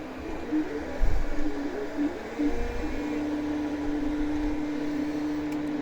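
Geeetech A30 3D printer with a homemade 0.8mm nozzle laying down a line, its stepper motors whining in steady pitched tones over a constant fan hum, close and moderately quiet.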